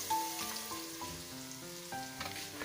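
Ground ginger frying in a pan with oil for a pumpkin and chana dal tarka, a soft steady sizzle with faint crackle and a few light clinks, no talking.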